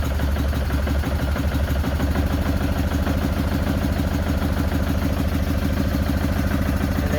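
A Kawasaki Prairie 360 quad engine idling steadily after its carburetor idle was turned up: a continuous, close, even low putter and clatter with no talking.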